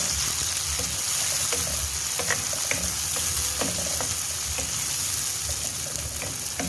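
Finely chopped tomatoes sizzle and fry in a pan for a potato curry, a steady loud crackling hiss with scattered pops and stirring scrapes throughout, no talking.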